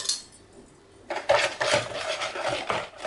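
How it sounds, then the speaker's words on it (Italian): Eggs and sugar are mixed in a bowl, with a quiet start followed by brisk, rhythmic scraping and clinking of a utensil against the bowl, close and continuous. "E adesso dobbiamo mettere le uova in una ciotola, aggiungere anche lo zucchero e andare a mescolare."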